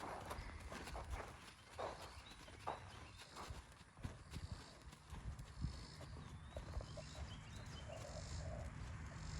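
A horse walks on a circle in an arena, its hooves thudding in a soft, uneven clip-clop rhythm, with birds cooing faintly in the background.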